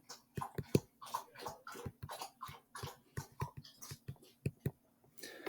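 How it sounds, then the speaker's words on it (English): Rapid wet lapping sounds in a quick irregular rhythm, close by, like a dog lapping water from a bowl, with short pauses between bursts. "you can hear my dog drinking water"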